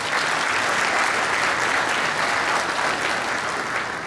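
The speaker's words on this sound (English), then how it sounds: "they deserve a round of applause now." A conference audience in Bayelsa State applauding, a loud, dense and steady burst of clapping that fills the room for several seconds without a break.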